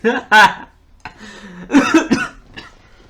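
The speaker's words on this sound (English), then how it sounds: "That was a cough because I ran out of air." A couple of harsh coughs burst out near the start, followed by a person speaking briefly.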